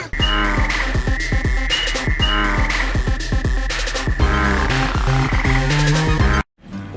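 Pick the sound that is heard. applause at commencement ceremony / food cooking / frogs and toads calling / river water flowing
frogs and toads calling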